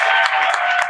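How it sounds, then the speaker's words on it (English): Audience applause at a reading event honouring a young adult fiction author and poet, a dense steady patter of many hands clapping close by throughout, without pause. "Round of applause."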